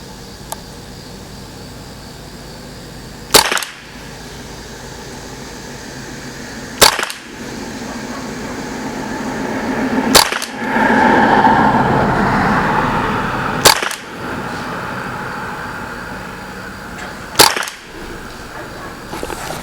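A Ruger 10/22 rifle fires .22LR rounds: five sharp single shots spaced about three and a half seconds apart, loud and close over a steady low background hum, with no talking.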